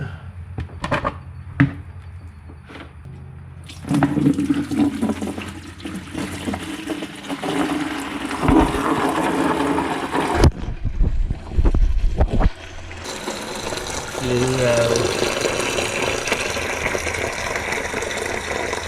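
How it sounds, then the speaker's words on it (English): Green coolant gushes and splashes steadily from a Nissan Patrol GU radiator into a bucket, a continuous watery rush that shifts in tone partway through, with a few clunks near the start. "to drain the water system, we're just going to pop that guy off."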